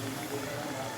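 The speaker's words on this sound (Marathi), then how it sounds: "एका साईडने चांगलं तळू द्यायचं आधी आणि मग पलटवायचं ह्याला." Chakli spirals frying in hot oil make a brief burst of dense, even sizzling and bubbling, heard close and steady throughout.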